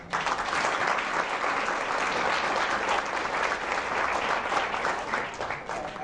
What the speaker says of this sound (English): I think we all should give our staff a round of applause for that.